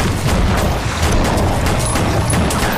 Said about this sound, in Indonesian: Max dengan menggunakan senjata terus menembaki hiu tersebut.